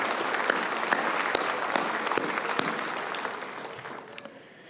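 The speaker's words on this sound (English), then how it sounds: "One more round of applause, please" A graduate commencement crowd applauds with steady, dense clapping that gradually thins and fades away at the end.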